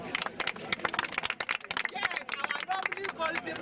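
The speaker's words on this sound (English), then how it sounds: "Let us turn our hands and clap on" A Nigerian audience at a Oneness Foundation event claps hands in a dense, uneven burst of applause, with crowd murmur and voices mixed in throughout.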